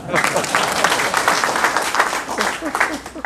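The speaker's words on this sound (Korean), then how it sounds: "박수 한번 쳐" A crowd applauds in a steady burst of clapping that fills the whole stretch, with voices murmuring underneath.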